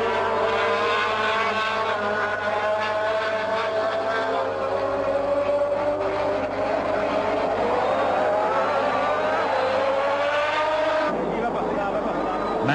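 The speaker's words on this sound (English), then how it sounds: "carried at high speed by Senna's Lotus Renault. Mansell in the Williams Honda was disinclined to see Senna disappear." Formula 1 race cars from 1986, Senna's Lotus Renault and Mansell's Williams Honda, roar at high speed with a steady loud engine whine that rises in pitch, a narrator talking over it throughout.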